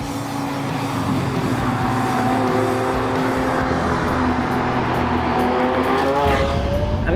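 A 2017 Lamborghini Aventador's engine revs hard and climbs steadily toward the redline, rising harmonic tones sustained loud and close, then dropping sharply as the gear is pulled near the end.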